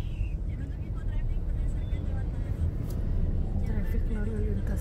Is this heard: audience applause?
no